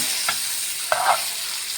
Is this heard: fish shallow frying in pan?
yes